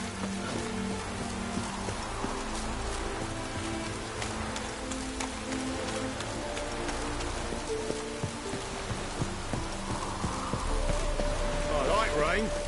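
Steady rain in The Witcher 3: Wild Hunt patters across a surface throughout, with background music tones and brief voices mixed in beneath the downpour.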